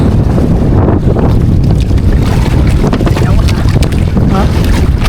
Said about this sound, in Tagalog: Maalon guys.